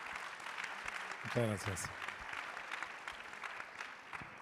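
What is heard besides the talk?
applause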